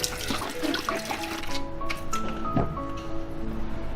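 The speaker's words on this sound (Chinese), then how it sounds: "我们来把玉米、胡萝卜还有青椒洗一下" Running tap water splashing steadily into a sink as corn, carrots and green peppers are rinsed, with intermittent clunks and handling noises of the vegetables up close and no voices.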